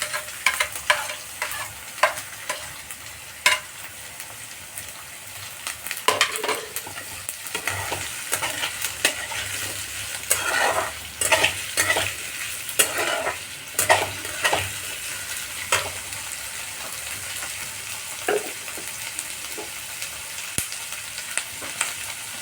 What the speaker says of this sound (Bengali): এরপর এর মধ্যে দিয়ে দেবো আমি লঙ্কা কুচো, ক্যাপসিকাম, পেঁয়াজ সব আমি একটু দিয়ে নাড়াচাড়া করব।